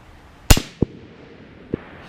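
Rifle firing blue ammunition at steel targets outdoors, one sharp loud crack followed by two fainter, quick metallic impacts spaced across a couple of seconds.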